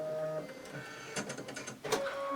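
An embroidery machine stitches a snowman placement line on a mini quilt with white thread, making a close, busy mechanical whir with quick rattling needle strokes for a couple of seconds.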